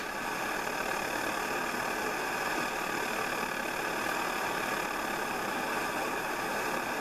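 A Coleman 530 G.I. pocket stove burns liquid fuel with a steady, loud, close roaring hiss that holds unchanged throughout.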